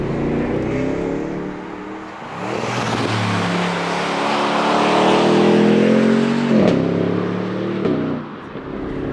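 Aston Martin Vantage Roadster engine revving loudly and up close, its exhaust rising and falling through gear changes with a sharp crack or two of exhaust bangs, no talking over it.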